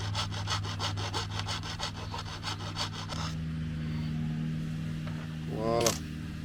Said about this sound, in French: une lame de scie à faire pour couper du bois.